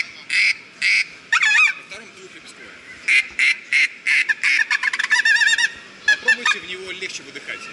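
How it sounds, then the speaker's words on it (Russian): A single-reed duck call is blown at a hunting and fishing expo, giving loud, nasal quacks in short bursts and rapid chattering runs, close and repeated over several seconds. "в одном случае это однолепестковая уточка"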